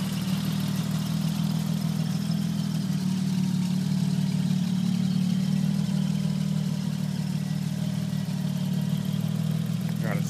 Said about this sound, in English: As you can see, the engine does run.